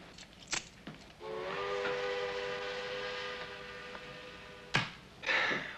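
A steam train whistle blows one long, loud, steady harmonic blast over hissing rail noise, with short clatters before and after and no talk.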